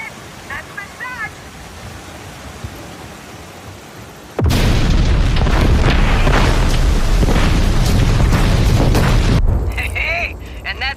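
Rocket explosions in a grappling-themed action video game, a sudden huge boom about midway that becomes a loud, sustained rumbling roar before cutting off, with quieter game sounds and voices before it.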